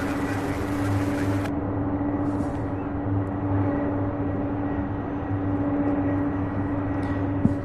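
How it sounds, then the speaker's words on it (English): A C-130 military transport aircraft drones steadily in the distance at an airport, a continuous low engine hum with a faint tonal whine, no talk. "here we have the C-130 up next"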